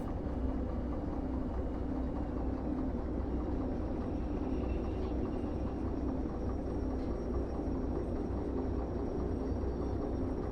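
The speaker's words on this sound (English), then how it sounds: "It's so long, this train, it actually goes all the way through the siding." Long freight train rolling through a siding in the railway simulation game Derail Valley, a steady, loud low rumble and grind of wagons that continues unbroken with no talk.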